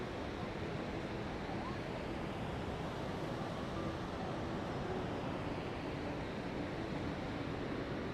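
Waterfall roaring below a viewpoint over the falls, a steady dense wash of rushing water with wind buffeting the microphone, constant and enveloping throughout.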